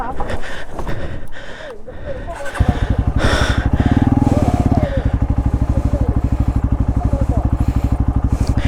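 A Hero Xpulse motorcycle rides down the Chokramudi trail, its single-cylinder engine at first a low, uneven rumble, then a steady, close, pulsing thump that holds to the end. Voices speak over it early on.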